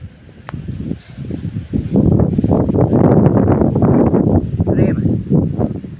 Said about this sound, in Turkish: Biraz kesilsin bu rüzgar artık yeter.